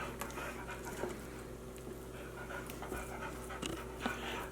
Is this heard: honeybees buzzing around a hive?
no